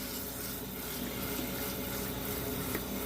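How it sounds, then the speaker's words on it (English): Water sloshing and swirling in a gold pan as it is rocked to wash black sands and lighter quartz material out, a continuous close, soft liquid churning with faint rhythmic surges. "slowly rock out the black sands with lighter quartz material and a gold pan in motion like this"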